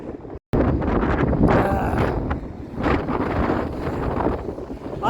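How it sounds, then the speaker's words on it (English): Strong wind buffets the microphone outdoors along a seaside tramway, a loud, continuous rumbling roar with gusts that swell and ease, broken only by a brief dropout near the start. "Can you also be the person that tells this wind to fuck off?"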